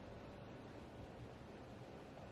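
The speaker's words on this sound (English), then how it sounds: "That sound you're hearing is the rain. It's pouring outside." Heavy rain pours down outside, a steady, dense hiss of broadband noise that holds at an even level throughout with no voices.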